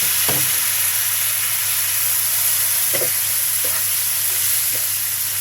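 Onions and tripe frying in a pan, a loud continuous hiss and sizzle with a few soft knocks of a utensil stirring, close by.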